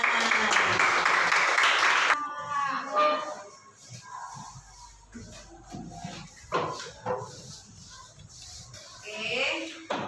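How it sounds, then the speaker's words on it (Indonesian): Brief burst of classroom applause from students, about two seconds of clapping that quickly stops, followed by shuffling, scattered noises and quiet talk in the room. "Oke, berikan tepuk tangan."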